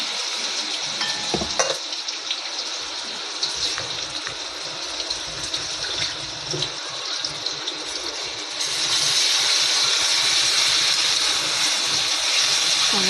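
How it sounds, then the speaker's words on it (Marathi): Ginger garlic paste sautés in a pan for a chicken dish, giving a continuous close sizzle with stirring scrapes that swells into a louder, steadier hiss partway through. No one speaks. "चरचवून घेते, त्याला भाजून घेते."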